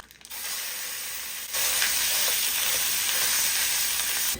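Ground beef (85/15) dropped into a pan with a small amount of oil sizzles close and steady, with a quieter hiss that jumps sharply louder partway through and then holds a dense, continuous frying crackle.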